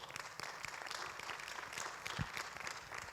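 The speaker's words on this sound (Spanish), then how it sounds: "Den un aplauso al Señor." A church congregation applauds during a Spanish-language sermon, a soft, distant patter of many hands clapping steadily for about three seconds.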